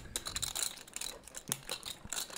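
Poker chips clatter and riffle in quick, light bursts of clicks during a poker game, a soft, close, irregular chattering with brief gaps.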